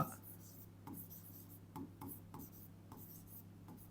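Chalk or marker scratches out a short sentence on a classroom board in brief repeated strokes, faint and close, over a low steady hum with no clear talking.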